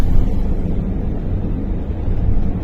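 Steady low rumbling wind by the sea buffeting the microphone, loud and continuous throughout with no voices.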